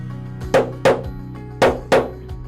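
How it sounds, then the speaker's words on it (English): A stamping hammer strikes a steel dapping punch into a metal stamping blank for a mandala earring. Four sharp, loud metallic blows land at irregular intervals, each with a short ringing decay and quiet gaps between them. "Then use the stamping hammer to strike the punch in the center."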